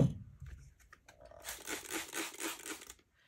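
A thrifted fabric piece is cut in half, producing a close, continuous crunching and ripping sound that builds after a few soft taps and then stops abruptly.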